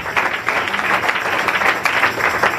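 A church congregation claps together in a brief, fairly loud burst of applause with a slightly uneven rhythm.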